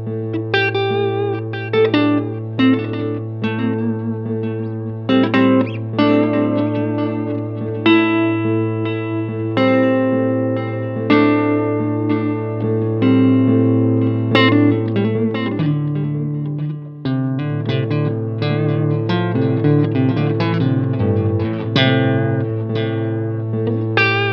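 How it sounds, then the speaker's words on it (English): An electric guitar played as an A drone through a BOSS DSD-2 and DOD DFX91 digital delay with reverb, a sustained low note under repeated plucked noodling phrases echoing and layering continuously. "we should be able to do some nice A drone noodling"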